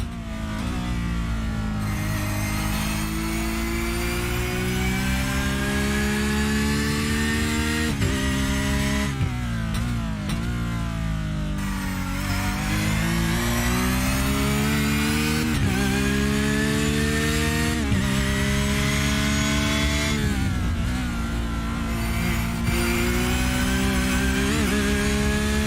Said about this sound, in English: n board with the number 312 of Arnaud Genet, letting the Porsche just sing on its own for a little